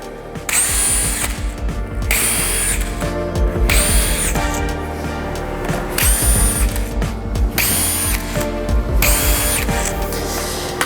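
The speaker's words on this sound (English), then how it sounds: "This is where you bring in your drill" A power drill whirs in repeated bursts, spinning up and down several times as it bores into wood, with no talking.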